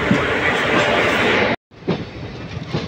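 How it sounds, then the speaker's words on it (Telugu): Mannai Express train from Chennai to Thiruvarur running along the track: a loud, continuous rumble with rhythmic wheel clatter, briefly cutting out, then resuming with a quieter roll and occasional clacks. "చెన్నైలో ఆన్ టైం అంటే ఆన్ టైం అయితే తీసాడు మన ట్రైన్"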